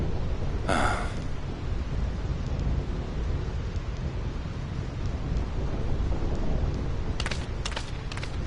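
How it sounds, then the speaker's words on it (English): Steady rain and storm roar from a Final Fantasy X thunderstorm, a constant wash of noise with a sharp crack near the start and a few brief bright bursts toward the end. "This storm never stops."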